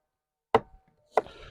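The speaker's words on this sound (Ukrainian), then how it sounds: "поки м'ясо смажиться, нарізаємо цибулю" Two sharp knife chops slicing onion on a cutting board about half a second apart, close and crisp, with quiet kitchen sounds between them.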